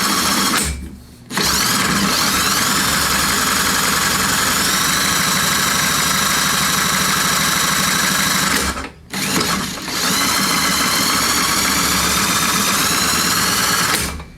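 A Briggs & Stratton small engine with stuck valves and lifters idles slowly, a loud, close, steady mechanical chatter with a fast rattling pulse that briefly drops out twice.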